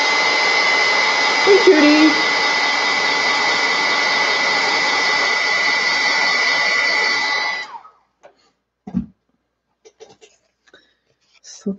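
A heat tool blows a steady, loud whirring hiss while heat-setting a mixed media artwork, running for about eight seconds before cutting off, followed by a brief spoken greeting and a few soft knocks.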